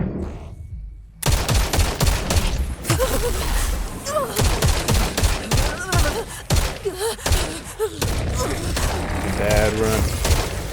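The Stopgap gun fires in Borderlands 4 in dense bursts of rapid shots mixed with mechanical clacks and game effects, loud and continuous after a quiet opening second, with a voice talking now and then.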